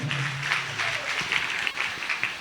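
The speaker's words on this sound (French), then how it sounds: "Acclame encore très fort le roi de gloire" A church congregation applauding during a worship service, dense sustained clapping from many hands filling the room, steady and fairly loud with no distinct voices.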